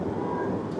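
A CSX freight train passes trackside in historic Dalton, making a steady, loud, broad rumbling roar close by with no distinct breaks.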